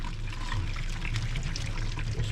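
Boiled soba noodles and their cooking water pour out of a pot into a strainer, a close, steady splashing gush that runs the full length alone.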